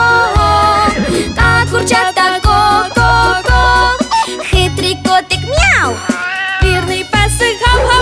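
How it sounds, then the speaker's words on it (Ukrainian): A cat's meow rises over loud, busy children's song music, brief and clear against the song. "хитрий котик м'яу"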